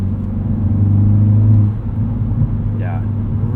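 Hyundai Veloster N pulling hard out of a corner in first gear, a loud, steady low engine drone with road rumble that eases off midway, a faint voice over the top near the end.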